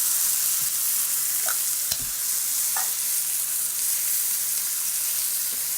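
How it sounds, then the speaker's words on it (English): Thin pork chops sizzle steadily in a hot pan, a continuous loud bright hiss with a few soft clinks and taps of a utensil scattered through it. "Because these are kind of thin chops and in this hot pan they're cooking all the way."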